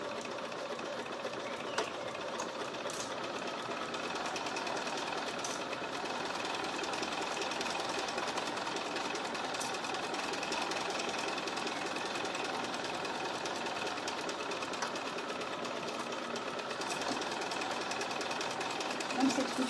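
A sewing machine runs steadily for about twenty seconds as it stitches a pocket onto a crossbody bag, close and even in tone, with the occasional bit of speech over it.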